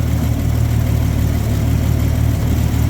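A 1965 Mercury Comet engine, a rusty parts car not run in ten years, runs steadily close by with a low even hum and no talk.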